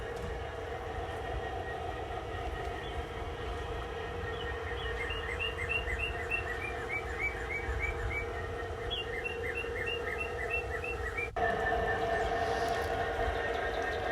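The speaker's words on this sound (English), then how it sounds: "there's all kinds of birds when I was there" Birds chirp outdoors beside a running G scale model railroad layout. Short tweets repeat in bursts over a steady train rumble and hum, and a sharp change near the end brings in louder mechanical noise.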